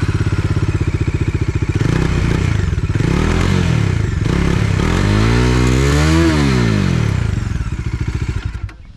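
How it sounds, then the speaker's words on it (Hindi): A Bajaj Dominar 400 BS6 twin-barrel exhaust motorcycle is started and left running in neutral, its loud, close engine thumping in a steady idle and then briefly revved up and back down before cutting off. "इसको न्यूट्रल करते हैं, इसका साउंड सुनाते हैं एक बार।"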